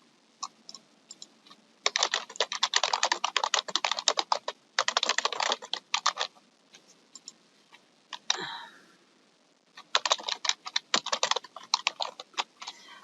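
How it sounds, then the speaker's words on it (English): Typing on a computer keyboard, quick clusters of close key clicks in several bursts separated by short pauses, with one faint brief sound partway through and no talking. "here I could type the case summary, the personal history, any new comments."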